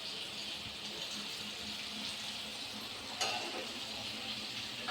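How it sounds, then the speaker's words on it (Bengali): Starch water draining off boiled rice while mutton biryani is being made: a steady, moderately loud rush of pouring water with a faint hiss, running evenly through the whole stretch with one brief splash near the end, no voices. "চালটা এবারে ফ্যান ছেড়ে দেবো"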